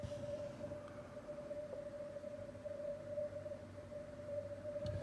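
A steady thin tone hangs above a wash of hiss on a ham radio receiver, a weak 15m CW morse signal barely rising out of the static, constant and faint throughout.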